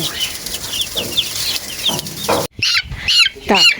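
Young chickens of mixed sizes cheep and cluck busily up close, a chorus of high peeping chirps with a few lower clucks mixed in.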